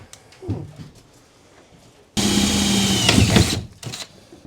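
A concertina-style hand rivet gun sets rivets while curved walls go into a 1975 Viscount Ambassador vintage caravan: a few quiet clicks, then a loud mechanical grinding burst of about one and a half seconds, and another short click afterward.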